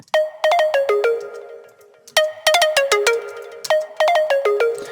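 FM-synthesized pluck synth in a tropical house style with a slightly deeper tone, bright short plucked notes in quick melodic bursts separated by brief pauses, clean and close with nothing else playing.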